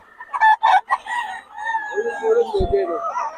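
A young rooster (stag) crows at a gamefowl market in Bocaue, one clear cock-a-doodle-doo close by, with bursts of market chatter and other bird sounds around it.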